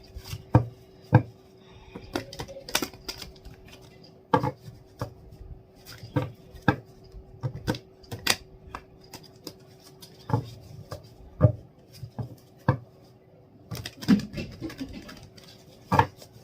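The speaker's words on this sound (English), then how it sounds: "whenever I shuffle these cards I feel really conscious. So give me a minute to shuffle these cards." A flimsy deck of tarot cards is shuffled by hand close up. The sound is a run of sharp, irregular taps and soft riffling bursts with brief gaps between them, and there is no speech.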